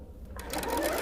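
A sewing machine stitches a row of a quilt-as-you-go rag quilt made from thrifted fabric. The motor starts up after a brief quiet moment, then hums and clatters close by, growing steadily louder.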